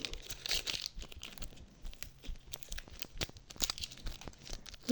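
Crinkly tearing and crumpling of a paper packet being torn open, close by, in irregular bursts across several seconds with no talking.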